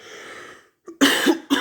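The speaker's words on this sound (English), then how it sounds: "I'm dealing with a cough." A person gives a couple of sharp, close coughs after a brief stretch of speech.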